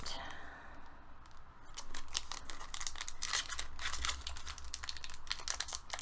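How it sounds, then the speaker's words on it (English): A Pokemon card pack is torn open by hand, with close, crisp crinkling and ripping foil in quick bursts, and a voice briefly heard. "ripping it open."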